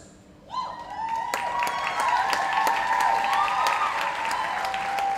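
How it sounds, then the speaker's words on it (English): An audience at the Marcus Garvey Awards for Excellence in the Performing Arts bursts into applause for the sponsors. Dense, loud clapping and some cheering start suddenly after a short pause and carry on steadily to the end. "So I want you to applaud the sponsors."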